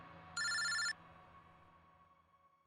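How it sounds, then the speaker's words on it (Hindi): A telephone gives a single short electronic ring burst, faint and alone in a quiet room, followed by silence and the start of another ring. "इनका फोन मत उठाओ तुम"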